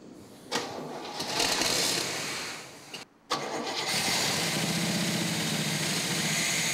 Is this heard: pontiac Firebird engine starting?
yes